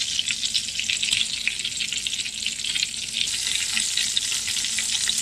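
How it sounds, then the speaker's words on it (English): Chicken pieces frying in a pan on a keto cooking session, giving a steady, loud, continuous sizzle with crackling and spattering throughout, close up and with no talking. "this is what the chicken is looking like right here. It's frying up"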